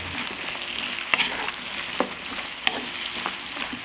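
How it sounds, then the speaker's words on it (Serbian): Button mushrooms sizzle steadily in a frying pan, with a few sharp clicks and scrapes as a utensil stirs them now and then; no voices are heard. "Dok se šampinjoni prže,"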